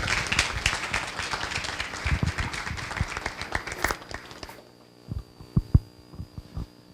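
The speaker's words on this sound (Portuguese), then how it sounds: "uma salva de palmas para o nosso palestrante de hoje" An audience applauds a guest lecturer at a talk, with dense clapping for about four seconds before it stops abruptly. A low electrical hum and a few scattered thumps remain afterward.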